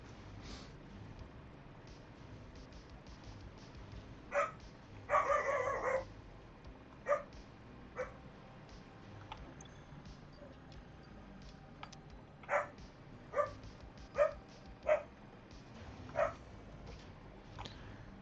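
A puppy barks in short, separate yaps spread across the stretch, with a brief cluster of louder barking near the middle, heard alone over a faint steady background hum.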